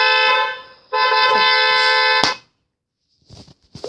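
A car horn sound effect from a prank sound app blares in two long, loud honks separated by a brief gap, followed by quieter scattered noises.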